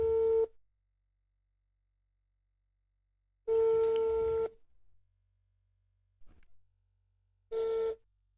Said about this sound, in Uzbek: Telefon ko'tararmikinlar? qo'ng'iroqqa javob berishadi.